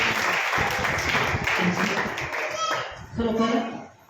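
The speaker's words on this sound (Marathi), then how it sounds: "साक्षीबद्दल जोरदार टाळ्या वाजवूया" A church congregation breaks into loud applause, dense clapping from many hands mixed with overlapping voices and children's chatter, close and sustained throughout.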